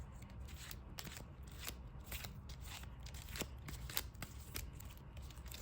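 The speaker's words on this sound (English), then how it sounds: "There we go. That's a shuffle." A deck of trading cards is shuffled by hand, a faint, quick run of soft crisp riffling and snapping clicks repeating close by with no talk.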